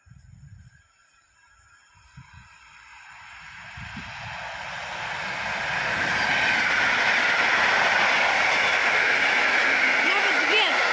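A passenger train bound from Gdynia Chylonia to Olsztyn approaches and passes at Cieplewo, its roar swelling from faint to loud and close with clattering wheels, after a few words at the start.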